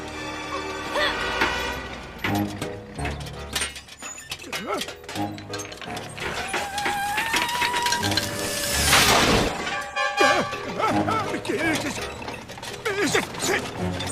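A crane in a French animated cartoon creaks and grinds, with ratcheting clanks, squeals and a crash, dense and loud throughout, while voices shout over the machinery.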